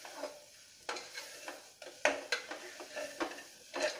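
A spoon scrapes and stirs beef biryani masala with chili powder in a pan, making a series of close clinks and scrapes over a soft sizzle, with no voices.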